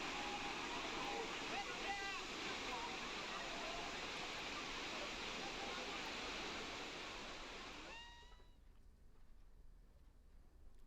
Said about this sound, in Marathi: लोणावळ्यामध्ये पडणाऱ्या मुसळधार पावसामुळे भुशी धरणाच्या सांडव्यावरून पाण्याचा प्रवाह वाढलाय